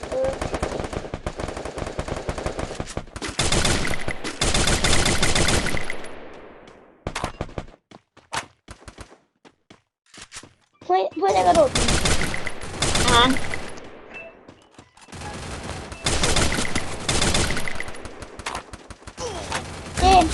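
Rapid automatic gunfire from the video game Free Fire rattles in long loud bursts with short pauses between, with occasional single shots and game sound effects; a voice talks faintly underneath.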